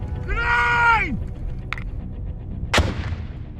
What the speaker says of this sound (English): Having a live grenade go off, literally a few meters from you